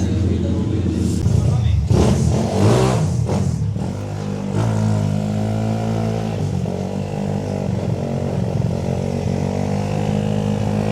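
A Mio 160cc scooter engine on the Carmona Racing Circuit revs hard and roars up close, the pitch climbing and settling into a sustained high whine as it accelerates.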